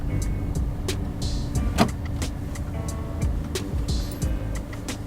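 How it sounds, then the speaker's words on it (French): A car is steered and eased into a parallel parking spot, giving a steady low engine and tyre rumble with intermittent clicks and knocks, and no talking. "on va venir tourner les roues et on va venir se garer en parallèle"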